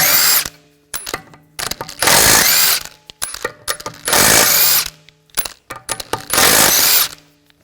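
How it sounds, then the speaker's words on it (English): Power socket wrench with a 17mm socket spins lug bolts out of a 2004-2009 Audi A4 Quattro rear wheel: loud, close, repeated buzzing bursts of a few seconds each, separated by quiet pauses and small metallic clicks. "Using a 17mm socket, take the lug bolts out."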